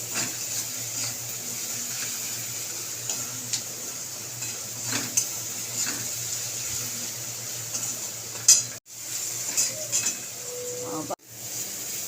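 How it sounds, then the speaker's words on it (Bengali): Taro leaves (kochu shak) fry in a pan with a steady, soft sizzling hiss, broken by a few sharp utensil clinks and scrapes near the end. "কচু শাকটা আপনারা দেখতেই পাচ্ছেন অল্প পরিমাণে হয়ে গেছে এগুলোকে ভালো করে ভাজবো"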